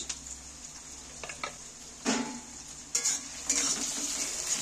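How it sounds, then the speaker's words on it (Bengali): Onions frying in a pan with spices, stirred with a utensil: a soft continuous sizzle broken by a few sharp scraping clatters against the pan, close and alone without talk. "এবার আমি পেঁয়াজটাকে একটু নাড়াচাড়া করে নিচ্ছি।"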